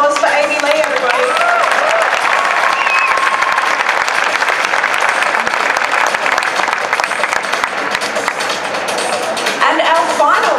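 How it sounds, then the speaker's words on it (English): A cosplay competition audience claps and cheers loudly and continuously, a dense wash of applause with crowd voices mixed in throughout. "Big round of applause for Amy Lee, everybody."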